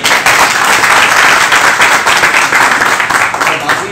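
A crowd gathered for a strike at an RTO office applauds loudly, a thick, continuous roar of clapping hands close by, with some voices mixed into the din.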